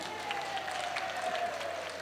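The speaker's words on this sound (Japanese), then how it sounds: "ギャラリーからも歓声が湧いております" Spectators at the IFMAR R/C Drift World Cup grand final cheer and clap in a steady crowd roar, with a thin whine from the cars running underneath.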